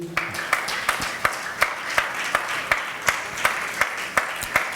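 A church congregation claps in slow, regular unison beats, fairly close and moderately loud, with a faint hubbub of cheering voices underneath.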